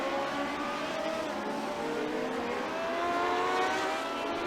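Lotus 79 Formula One cars racing at Phillip Island, several engines howling close together in a steady, continuous drone with overlapping pitches rising and falling.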